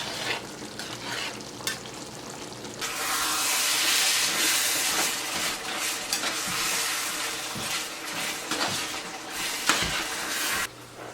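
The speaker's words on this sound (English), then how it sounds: "Our noodles over here sound like they're about done." Noodles boiling in a pot for a taco hotdish, a steady bubbling, hissing roar that swells after a few seconds and stays loud and close, with scattered clinks and knocks and no talking.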